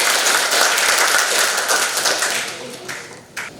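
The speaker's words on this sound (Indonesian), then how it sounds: "Bapak Ibu boleh minta tepuk tangan yang paling meriah sekali lagi." Audience applause at an Indonesian talk show on groundwater and sustainable tourism: a dense, steady wash of clapping that fills the room for several seconds, then thins out toward the end, with a last sharp clap near the close.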